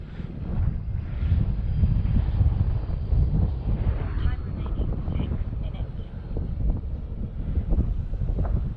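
Steady wind buffets and roars across an outdoor microphone while a Valiant flies in a crosswind, a constant low rumble throughout with occasional gusts, no speech over it.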